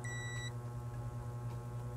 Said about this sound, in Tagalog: continuity, buzzer.